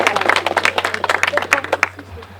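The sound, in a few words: audience applause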